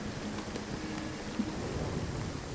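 Hail storm pelting down in the survival game Nightingale, a steady dense patter of hailstones with low rumbling beneath, continuous and moderately faint with no talking.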